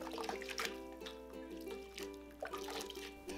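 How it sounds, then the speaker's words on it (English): Water splashing and trickling as a duck is rinsed in cold ice water in a home kitchen, light intermittent dribbles and splashes over a steady low hum. "Now, immediately we want to rinse it in cold water, or actually ice water."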